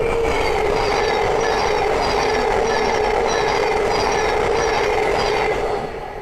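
Thameslink Class 700 electric train passing on the East Coast Main Line at Great Wymondley, a loud, steady rushing roar with faint rhythmic wheel clatter that starts to fade at the end.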